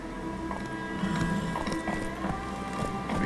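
Horse hooves clip-clopping in the video game The Witcher 3, a steady rhythmic trot running continuously over a busy game soundscape with music, moderately loud throughout.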